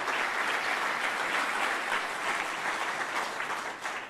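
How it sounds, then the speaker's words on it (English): A large audience applauds steadily, a dense crowd of clapping hands sustained throughout before starting to taper at the end. "A round of applause for our sponsors and our hosts and everybody that's joined us today."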